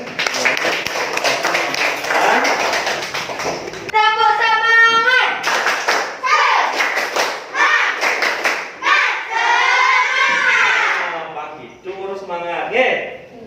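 Schoolchildren in an elementary classroom perform a rhythmic clapping chant, shouting in unison between sharp, patterned bursts of hand claps, with loud group voices dominating the room.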